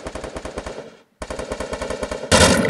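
Automatic gunfire in a video game: two rapid, loud bursts of machine-gun shots separated by a brief gap, the second burst ending in a harsher, noisier blast.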